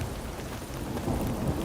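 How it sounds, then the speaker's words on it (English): Steady rain pours with a low rumble of thunder underneath in a medieval fantasy role-playing game, a continuous dense wash of weather sound with no voices. "Keep me nice and warm in this rainy weather."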